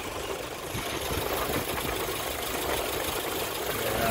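A 1996 Geo Tracker engine idles with its belt running, a steady, even mechanical hum with a faint rhythmic ticking throughout.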